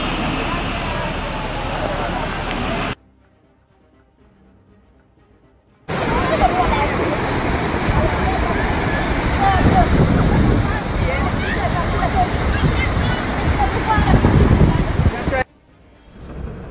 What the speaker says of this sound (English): Flooding. All of these roads impossible.